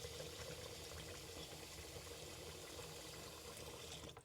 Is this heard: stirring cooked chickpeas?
yes